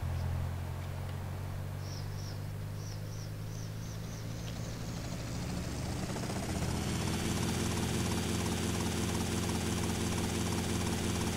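A helicopter in the video game GTA Vice City gives a steady whirring rotor and engine drone that swells louder and fuller partway through, with no talking over it.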